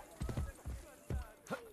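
Horse hooves from Assassin's Creed Brotherhood clip-clop in an uneven trotting rhythm, fairly quiet, with a short snort or whinny near the end.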